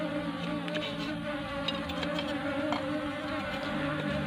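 Bees swarm around a bee trap box, making a dense, continuous buzz that stays close and steady from start to finish, with no voices.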